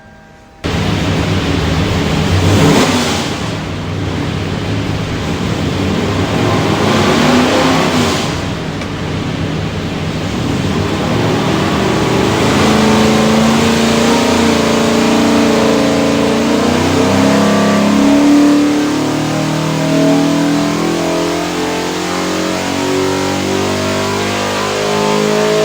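Ford 347ci stroker V8 from a 1965 Mustang GT350, revving hard and loud on a dyno, a steady roaring pull rising in pitch over many seconds with no talk.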